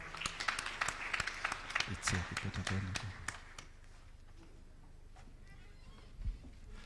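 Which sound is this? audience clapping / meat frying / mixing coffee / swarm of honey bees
audience clapping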